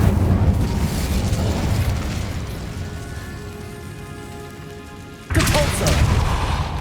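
A fire spell bursts out in Hogwarts Legacy, a broad crackling roar over steady background game ambience, then a second loud whoosh strikes near the end.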